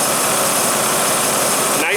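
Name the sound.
Jeep Grand Cherokee 5.9 ZJ engine idling smoothly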